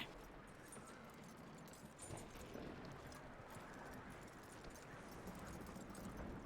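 Horse hooves clip-clop at a steady walking pace in Red Dead Redemption 2, soft and fairly close over a low outdoor rumble and faint jangling tack.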